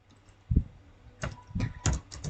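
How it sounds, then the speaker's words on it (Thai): Several soft clicky keystrokes on a computer keyboard, a single tap followed by short clusters of typing, close and quiet with no talk. "พิมพ์ซับ"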